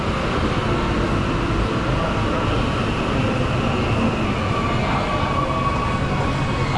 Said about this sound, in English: Estamos en el metro,